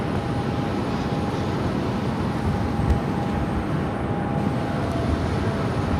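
A Delta heavy airliner taking off from runway 7 left at Phoenix airport, heard as a steady, broad distant engine roar that holds evenly throughout with no talk.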